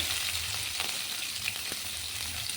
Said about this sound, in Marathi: आता आपल्याला ओला मसाला भाजून घ्यायचा आहे. कांदा घालूया, टमाटर,